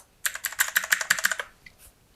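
Rapid clicky typing on an SPC Gear GK530 Tournament mechanical keyboard with Kailh Blue switches, a dense run of about fifteen sharp keystrokes over a second, close and fairly loud, then a couple of faint stray clicks.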